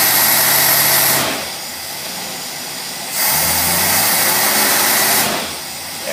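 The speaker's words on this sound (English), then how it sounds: "Now we're going to put the gear, put a load on it, simulate it driving down the road." A loud engine fed by a Motorcraft single-barrel carburetor runs in gear under load. It surges in roaring bursts through its RPM range, dropping to a lower drone between pulls, with no one speaking.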